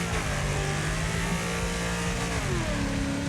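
A car engine in the racing game Wreckfest revs hard and loud throughout, its pitch climbing steadily through the gears and then dropping with a shift near the end.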